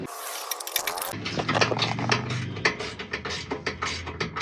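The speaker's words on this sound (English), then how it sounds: "Once you get one bolt nice and tight, that's all you need. It'll stay in place. Tighten all 8 bolts." Running board bolts on a 2019-2025 Chevrolet Silverado are tightened with a ratcheting tool, giving rapid, close, uneven clicks and metallic taps in quick bursts without speech.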